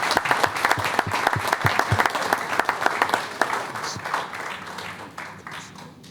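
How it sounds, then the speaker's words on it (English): Audience applause at a city council meeting in Portsmouth, Virginia, a dense round of clapping from a room full of people that holds steady and then tapers slightly toward the end. "Let's give them one more round of applause."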